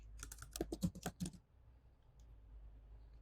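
Quick run of clicking keystrokes as a prompt is typed on a computer keyboard, close and fairly loud for about a second and a half, then quiet room tone.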